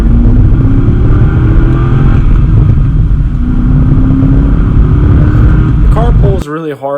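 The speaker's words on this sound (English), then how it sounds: "the highlight of this car is the big V8 engine" A C6 Corvette's big V8 engine, about 400 horsepower, roars loudly and continuously, revving up and down up close, with a voice starting at the very end.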